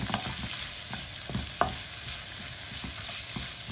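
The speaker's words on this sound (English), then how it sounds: "So with stir fry it's really important to continually stir like this" Vegetables stir-fry in a pan for a noodle dish, a close crackling sizzle broken by repeated scrapes and clatter of a utensil being pushed around, with one sharper knock midway and no talking.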